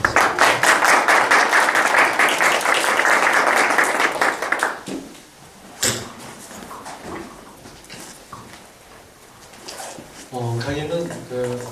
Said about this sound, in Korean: 큰 박수로 환영해 주시면 감사합니다